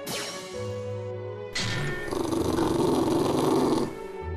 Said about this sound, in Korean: 갑자기 으르렁거리는